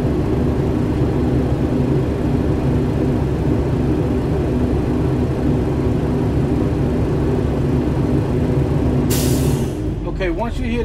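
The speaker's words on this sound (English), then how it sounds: "Once you hear that sound go off, that's the governor cut off, indicating that the air tanks are full." A school bus air brake system builds pressure with a steady engine drone until the governor cutout fires a short, sharp hiss of air near the end, followed by someone speaking.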